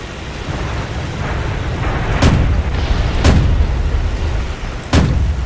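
Ju 87 Stuka guns firing in the War Thunder game: three sharp, loud booming shots spaced about a second or more apart, heard over a steady roaring engine drone.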